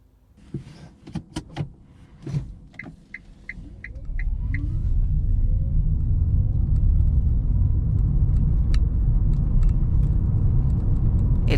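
A car at night gives a few close clicks and thumps of doors or controls, then its engine and road rumble swell in and hold as a loud, steady low drone while driving on.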